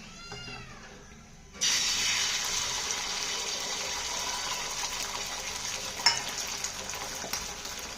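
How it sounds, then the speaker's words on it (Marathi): Beaten egg poured into hot oil for an omelette bursts into a loud, even sizzle that starts abruptly and keeps crackling steadily to the end, with a brief sharper pop near the close. "तेल पण आपलं चांगलं तापलं आहे आता अंड्याचे पोळे करून घेते"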